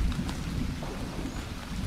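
Steady rain patters with a low rumble of thunder in the post-apocalyptic video game Zero Sievert, a brief continuous wash of sound.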